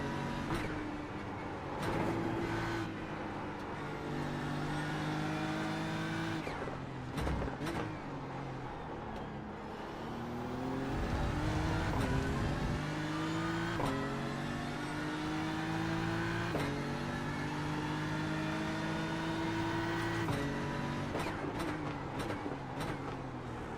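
GT3 race car engine in a racing video game pulling out of the pits, a steady droning engine note with repeated rising gear-change sweeps and brief lifts between shifts, continuous and fairly close throughout.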